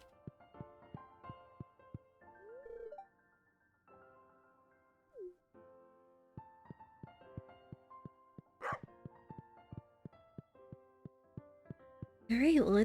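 A dog barks in short, sharp yips amid tinkling Stardew Valley game music and chimes, the barks spaced irregularly and moderately loud.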